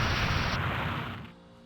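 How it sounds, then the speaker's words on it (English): An explosion in the Minecraft Dragon Block mod gives a loud, sustained rumbling boom that fades out toward the end. "Explosion."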